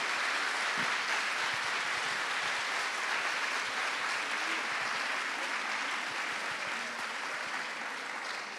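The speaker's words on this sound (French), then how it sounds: "On peut l'applaudir, merci." Sustained applause from a conference audience after the opening talk of a 2024 colloquium, dense even clapping that holds steady for several seconds and fades slightly, with no voices over it.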